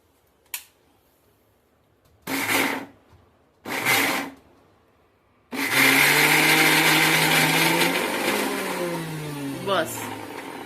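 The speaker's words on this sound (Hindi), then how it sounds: "तो अब पहले हम इसे थोड़ा सा पीस लेंगे पल्स मोड पे।" Soaked ingredients for eggless Goan Easter eggs ground in a kitchen blender on pulse mode: two short loud bursts, then a long sustained grinding whir whose motor pitch slides and shifts, close and loud.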